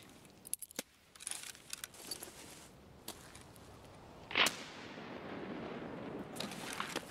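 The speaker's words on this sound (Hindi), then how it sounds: "ग्रेनेड।" A grenade goes off in the shooter game Escape from Tarkov: one sharp, loud blast about midway through, after which a rushing roar and hiss slowly die away. Scattered clicks and smaller bangs come before it, with no speech.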